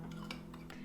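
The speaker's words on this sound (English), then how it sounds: "So I put in half of the batter and stir, stir, stir." A spoon scrapes and clinks against a pan while stirring cinnamon swirl bread batter, a few quick faint strokes in a short burst over a low steady hum.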